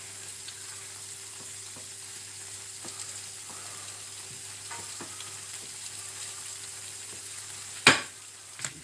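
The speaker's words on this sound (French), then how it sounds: "les rognons sont déjà en mode cuisson" Veal kidneys cook in a pan under a faint, steady sizzle with a few soft ticks, then a loud sharp clatter near the end followed by a smaller knock.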